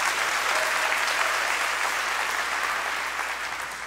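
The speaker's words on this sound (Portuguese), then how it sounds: "Pode dar uma salva de palmas ao Senhor?" A church congregation applauds in unison during a sermon, a thick, steady wash of clapping that fills the room and fades slightly at the end.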